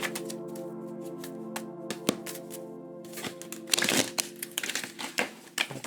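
Tarot cards are shuffled in a quiet room, quick papery riffles and taps that build into a denser burst of snapping and flicking near the end, close and alone.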